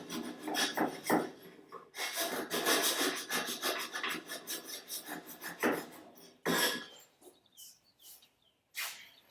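A rasp files rhythmically, close and fairly loud, in repeated strokes that pause briefly and then resume, during work on a Shelby Cobra replica build.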